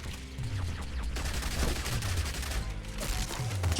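A grenade trail ability in Yet Another Zombie Survivors sets off a dense, continuous patter of small pops and bursts. Swooping game tones sound alongside, close and busy throughout, with no speech.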